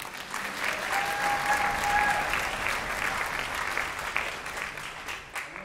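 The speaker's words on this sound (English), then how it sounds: "So, round of applause for him." An audience applauds steadily for several seconds, a dense, even wash of clapping that holds at roughly the same level throughout.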